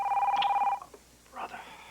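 Telephone ringing: a steady electronic ring lasting under a second, fairly close, then cut off as a person speaks briefly afterward.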